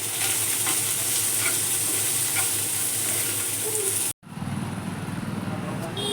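Food frying in a pan and being stirred after salt goes in, a dense steady sizzle with scraping, briefly cut off and then resuming more quietly as a voice talks.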